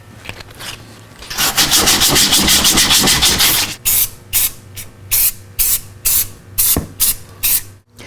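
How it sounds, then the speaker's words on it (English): Rubbing with sandpaper gives way to long hissing bursts of black spray paint on a 5th Gen 4Runner washer bottle: one sustained spray, then about eight short, loud, evenly spaced bursts, close and with no talk. "take some sandpaper, scruff it up a little bit, shoot it with some black paint"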